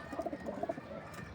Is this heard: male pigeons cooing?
yes